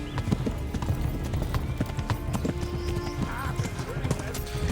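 Horses galloping in the video game Kingdom Come Deliverance, a steady rapid clip-clop of hooves with an occasional whinny, heard under continuous talking.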